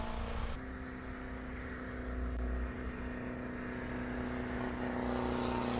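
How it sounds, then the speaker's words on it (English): An Austin 750cc four-cylinder classic car labours up a steep hill at a hillclimb event, its engine droning steadily and fairly close throughout with a strong constant tone, no talk over it. "That little 750cc is pumping itself to get up the hill."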